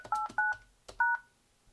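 DTMF keypad tones on a Yealink SIP-T28P desk phone entering a voicemail PIN: four short separate beeps in uneven rhythm, clear and close, with a soft breath or click between.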